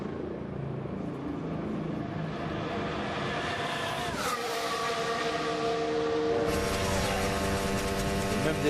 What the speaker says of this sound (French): on entend comme la voiture cogne sur le sol